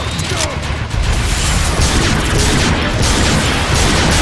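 Gunfire in Transformers: Fall of Cybertron, a continuous dense volley of shots with booming impacts and metallic clatter, loud and close.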